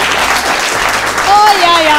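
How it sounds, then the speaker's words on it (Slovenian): Studio audience applause for a guest on a Slovenian talk show, a dense burst of clapping that carries on throughout with voices talking over it. "Dajmo še en aplavz torej za Jureta"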